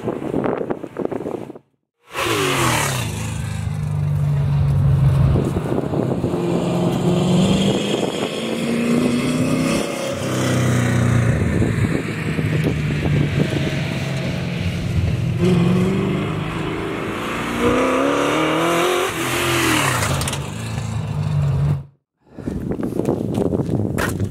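A race car with a new engine and 3-link rear suspension runs warm-up laps at a test session, its engine droning and rising and falling continuously through shifts for over twenty seconds, loud and close, with brief silent cuts near the start and end.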